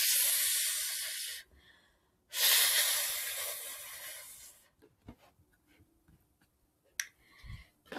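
A voice imitates a kitten's hiss for the letter F in a phonics chant: two long, loud breathy hisses close to the mic, followed by quieter scattered breaths and clicks.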